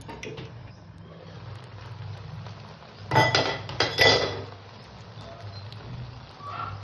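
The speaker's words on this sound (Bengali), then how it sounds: "হালকা হাতে নাড়াচাড়া দেবো গ্যাসটা একদম ছোট করে দিয়ে ঢাকা দিয়ে" Chicken pulao is stirred gently in a metal pot over a low gas flame, then a lid is set on. A soft scrape over a low background hum gives way to a few bright metallic clanks midway, then quiet again.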